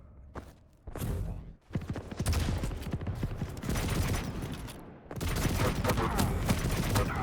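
Heavy machine gun fire in an arena shooter duel, rapid continuous bursts of loud close gunshots with brief pauses, thumping impacts mixed in.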